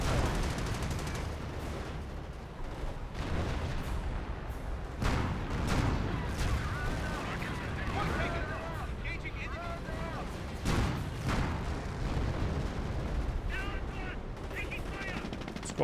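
Sniper rifle and other gunfire in a Company of Heroes 1 match, with sharp bursts and scattered shots and booms over a continuous battle din, under a caster's commentary.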